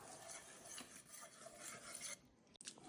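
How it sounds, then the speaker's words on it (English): Pancake batter made with sunflower oil is mixed in a bowl, a continuous close scraping and rubbing stir that stops briefly near the end, fairly quiet, with no talking. "And then we mix it now."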